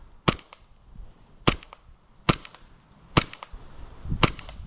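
An airsoft gun firing at a target, five sharp cracking shots spaced about a second apart, close and crisp with quiet gaps between them.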